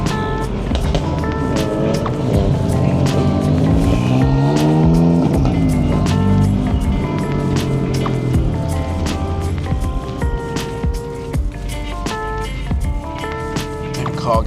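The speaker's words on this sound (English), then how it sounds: "You can hear them turbos." Turbocharged BMW M cars at a meet-up cruise, loud engines revving and accelerating close by with rising and falling engine tones, tire noise and sharp transient pops throughout.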